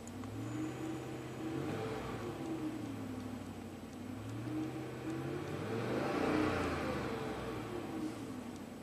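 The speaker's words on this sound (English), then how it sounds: "So I'm gonna rev it up." A Ram Hemi V8 engine runs steadily nearby, its low rumble swelling into a louder rev partway through before easing back, with no talking.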